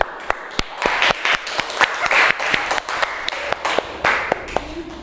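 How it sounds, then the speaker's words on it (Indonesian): Students in a classroom clap together in a burst of applause, the sharp individual hand claps close and uneven, with a few voices murmuring underneath. "Beri tepuk tangan dulu."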